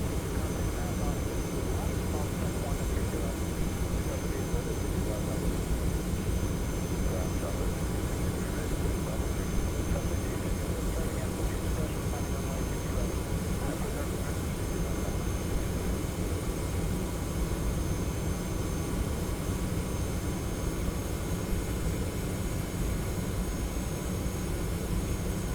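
TFDI Design 717-200 airliner on approach in the Prepar3D flight simulator, a constant loud broadband jet engine roar with steady hum, unchanging throughout.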